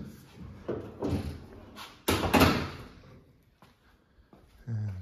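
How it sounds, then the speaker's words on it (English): Door of a 1965 A-code convertible car being opened, a sharp metallic clunk and latch release standing out among softer handling knocks and thumps in a quiet garage. "Pop the door open."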